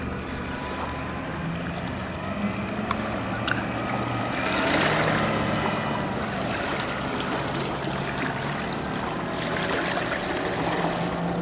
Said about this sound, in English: Xp200 Catfish with a 115 Yamaha 4-stroke. There she goes, my friends.